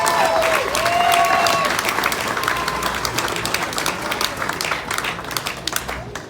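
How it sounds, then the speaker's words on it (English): Sustained applause from an audience at a hot rod and custom car expo awards ceremony at a racecourse, dense steady clapping with crowd noise and brief voices, fading slightly toward the end. "Another round of applause, please."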